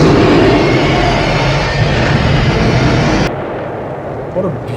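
Movie explosion from Ghostbusters, a loud, dense roaring blast with heavy low rumble sustained for about three seconds before cutting abruptly to a quieter tail.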